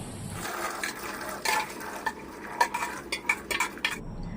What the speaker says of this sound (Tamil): இதை தண்ணி கூட அப்படியே சேர்த்துக்கிடுவோம்